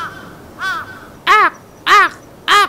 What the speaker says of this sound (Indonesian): Ada suara gagak yang mungkin artinya sebentar lagi kita akan.